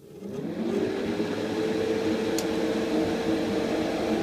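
An airbrush back-blasts paint inside its cup to mix it while painting a Gundam model kit, giving a steady close hum and hiss that rises quickly and then holds evenly, with no talking.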